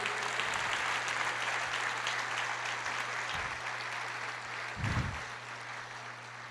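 A church congregation claps in steady, sustained applause that fills the room, with a low hum beneath and a couple of brief low thumps, no voice over it.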